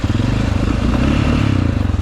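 A Honda Rincon 650 ATV engine idles and runs close by, a loud, rapid, even thumping pulse with mechanical clatter, steady throughout and without talk.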